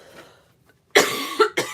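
One person coughs close to the mic, first a sharp loud cough and then two shorter ones in quick succession, all following a quiet stretch with faint movement.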